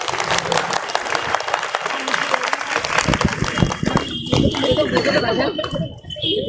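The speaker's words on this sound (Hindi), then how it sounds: "सैफ पठान के लिए एक जोरदार तालियां" A crowd applauds Saif Pathan at a post-election victory gathering, dense clapping and cheering at close range that thins out toward the end, with voices mixed in.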